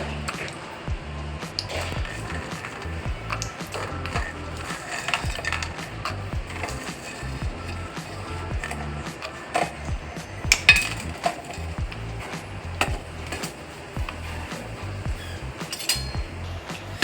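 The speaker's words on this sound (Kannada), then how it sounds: "ನಾನು ಫಸ್ಟು ಶೇಂಗಾ ಹಾಕ್ತಾಯಿದ್ದೀನಿ" Peanuts dropped into hot oil in a pan while cooking Bisi Bele Bath, giving a steady crackling sizzle with scattered clinks of a utensil against the pan, close and moderately loud throughout.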